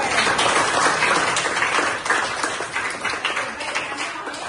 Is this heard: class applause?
yes